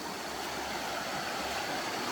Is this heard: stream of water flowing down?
yes